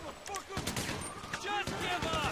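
Rapid automatic gunfire in GTA 5 Online Maze Bank survival mode, crackling bursts with sharp transients layered with other shots and game effects, fairly loud throughout; a voice is mixed in.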